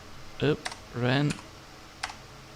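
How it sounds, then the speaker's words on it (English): Computer keyboard keys clack in a few sharp taps between two short spoken syllables, close and fairly clear in a quiet room. "So I'm gonna be typing that in."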